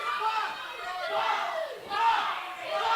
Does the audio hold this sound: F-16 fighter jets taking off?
no